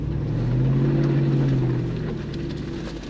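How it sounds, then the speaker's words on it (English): A Jeep Wrangler Rubicon 392 Final Edition V8 drones low and steady as it climbs an off-road hill, a deep sustained rumble with wind buffeting the microphone, easing slightly toward the end. "And the engine sounds good."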